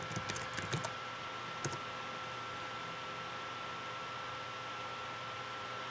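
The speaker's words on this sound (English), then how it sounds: "we type in our username and password" A few quick, faint computer-keyboard keystrokes tap out a username and password in the opening second, with one more click soon after, then only a steady fan-like hiss and hum remain.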